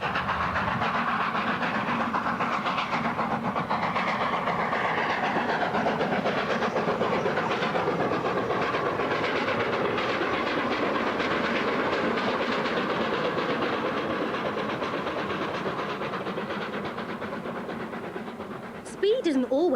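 Steam locomotive 60532 Blue Peter runs continuously and loudly, a steady rumbling roar with rhythmic clickety-clack from the rails and a hissing wash of steam, fading slightly near the end, heard without talk.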